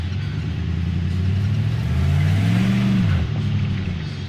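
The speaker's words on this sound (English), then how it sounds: "Spinning my studded snow tires very easily." A car with studded snow tires spins its wheels while accelerating on a winter road. A loud, steady engine rumble rises in pitch, falls off near the end, and continues without pause throughout.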